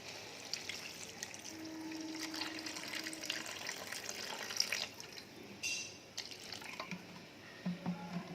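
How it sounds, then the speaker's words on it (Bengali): Water is poured into a pot of cooking mutton curry, a soft, faint splashing and trickling with a few light clinks, quiet and with no talk over it. "এবার আমি এর মধ্যে জল দিয়ে দিচ্ছি।"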